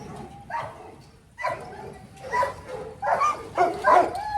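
Several yard dogs bark and yip in short bursts, growing louder and more frequent toward the end, fairly close with no other sounds.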